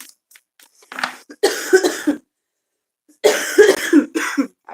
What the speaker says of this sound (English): Makes me cough when I didn't cough, but I'll be alright.